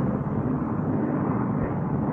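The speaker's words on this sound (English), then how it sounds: "Presented herewith is a new type of airplane, a primary trainer escort, under absolute control at 90 miles an hour indicated" A Lockheed P-38 fighter plane from 1943 drones steadily in flight, a loud continuous engine roar with no voices.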